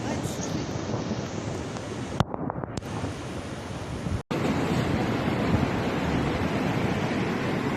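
Floodwater surges and roars past near a road in Badam, Tulkibas district, Turkestan region, a loud continuous rushing broken by a brief cutoff before resuming, with wind buffeting the microphone.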